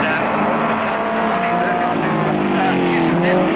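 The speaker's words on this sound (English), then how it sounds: "just watch this Commodore, it's beautifully, it goes exactly on the track where he wants it" A Holden Commodore race car roars around a speedway track at Murray Bridge in 1991, a loud sustained engine drone with other cars nearby, under continuous commentary.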